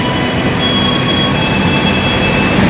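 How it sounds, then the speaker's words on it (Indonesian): Passenger train of the KA Cikuray pulling out of Bandung station, heard from inside a carriage as a loud continuous rumble of wheels on rail with thin high steady squeal tones running through it. "Kereta api yang saya naiki berangkat ya di stasiun Bandung"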